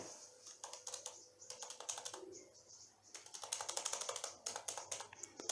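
Rapid clicking of a computer keyboard being typed on in bursts, with a short pause partway through and steady keystrokes throughout, close and clear with no talking.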